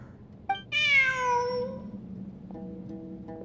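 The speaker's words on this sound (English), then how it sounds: "Look! A cat!" A cat in Genshin Impact lets out one loud, clear, drawn-out meow, followed by a softer short mew, with quiet ambient game sound underneath.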